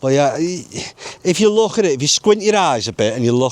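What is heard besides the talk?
No distinct noise like a dog, phone or traffic.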